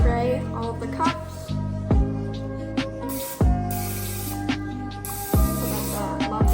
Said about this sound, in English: we just spray all of the cups